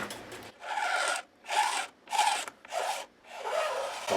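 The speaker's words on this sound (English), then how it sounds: "I'm going to have to resort to scraping to get that out" Scraping on the body of a Gibson guitar during a repair, four or five long rasping strokes in a steady rhythm with short pauses between, close and fairly loud with no talk.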